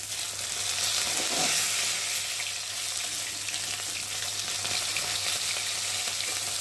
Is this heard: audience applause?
no